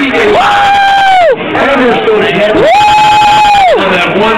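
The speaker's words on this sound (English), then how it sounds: "It helps having your mom cheer for you, huh?" A mother cheers and whoops loudly for her son at a powerlifting meet, two long sustained high-pitched cries rising and falling close to the listener over a noisy crowd.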